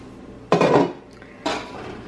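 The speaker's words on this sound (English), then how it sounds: "But we're gonna put the pot on first." Two clanks of a metal pot being set down on a hot plate while making burritos, the first heavier and ringing briefly, the second a short knock a second later, close and without talk.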